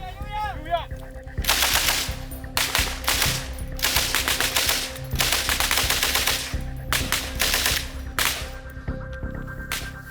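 Colombian soldiers vocally imitating synchronized gunfire, several loud, rapid bursts of mouth-made rat-a-tat sounds in unison, separated by short pauses, with a brief whistle-like voice at the start.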